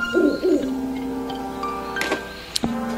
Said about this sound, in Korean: 안 나타나던 부엉이가 나타났습니다.